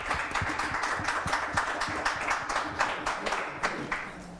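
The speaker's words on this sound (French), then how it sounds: "Applaudissements." Studio audience applauding on a French-language television programme, brisk rhythmic clapping close by that holds steady for several seconds with no voices over it.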